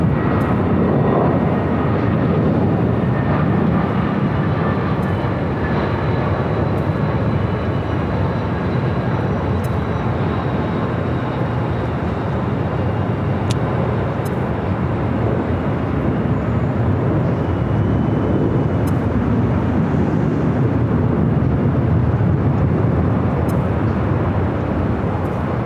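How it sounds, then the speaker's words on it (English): United Airlines A320 landing on runway 24 right at LAX produces a continuous loud, broad jet rumble and roar close by, steady throughout with faint ticks, no talk. "let's head to the United A320 up next for arrival 24 right"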